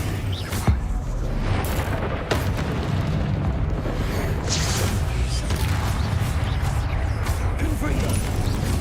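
Confringo fire spells from Hogwarts Legacy, a video game, blast repeatedly, loud booming bursts over dense continuous game noise, with a sharp crack near the start.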